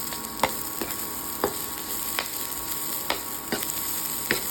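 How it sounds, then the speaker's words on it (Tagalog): Garlic and onion sizzle steadily in a pan, with a spoon or spatula scraping and stirring in regular, distinct strokes, close and fairly quiet. "Sa same pan, dito na rin tayo magluluto ng gulay. Para naman sa ating gulay, magigisa lang tayo ulit ng bawang at sibuyas."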